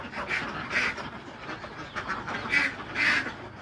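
Ducks quack repeatedly in bursts at a farm where laying and non-laying ducks are kept, several calls overlapping at close range with steady background noise.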